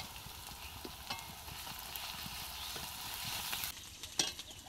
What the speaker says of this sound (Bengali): এবার দিয়ে দেবো আদা বাটা।